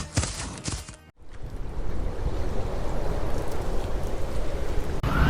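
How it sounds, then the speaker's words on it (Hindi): Heavy rain and strong wind in an animated story's forest setting make a dense, steady, loud rushing wash that starts abruptly after a brief break and continues without any voices. "तेज हवा के साथ बारिश आने लगती है।"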